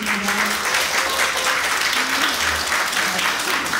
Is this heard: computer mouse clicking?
no